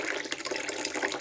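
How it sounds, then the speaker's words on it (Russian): Water pours from a tap into a cup, a bright, close, continuous splashing rush with no voices. "Берем чашку, наливаем полную чашку"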